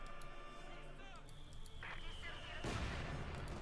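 Mortar fire booms in the Company of Heroes 2 battle, a heavy blast building into a loud rumbling roar toward the end, layered over steady game ambience and earlier rattling weapon sounds.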